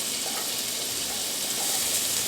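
Onion and garlic sizzle in a hot pan for Cajun smothered potatoes, a close, steady, crackling hiss with no talking.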